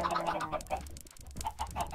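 Short, repeated clucks from several Minecraft chickens sound in quick bursts, clear and close, with no talking.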